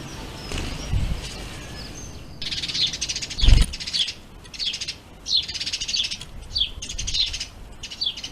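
Small birds chirp and tweet right beside a close-up spy camera, a run of bright, quick calls in bursts repeating through the clip, loud and near, with a faint low thump partway through.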